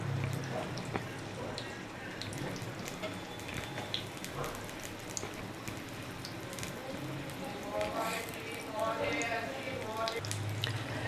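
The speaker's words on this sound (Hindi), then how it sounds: "प्याज हमने डाल लिया तो हमने इनको फ्राई करने ना गोल्डन ब्राउन करेंगे हम इनको।" Sliced onions fry in hot cooking oil, a steady crackling sizzle like light rain that runs the whole time. Someone talks over it now and then.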